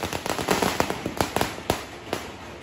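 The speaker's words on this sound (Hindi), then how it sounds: "And now it's my turn to burst the crackers" Diwali firecrackers burst in a rapid, irregular string of sharp cracks and pops, fairly near and loud, over a constant hiss of background noise.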